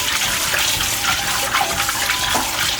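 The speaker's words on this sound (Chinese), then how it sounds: "用清水清洗干净" Running tap water gushing steadily over raw shrimp in a small basin as they are rinsed clean, a continuous close splashing flow with no talk.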